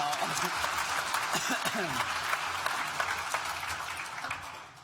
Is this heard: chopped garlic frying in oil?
no